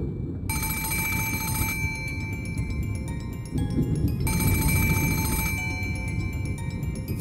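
Telephone bell ringing in an anime episode, two long bursts of rapid electronic trilling separated by a pause, loud and clear over a low background hum with no talk.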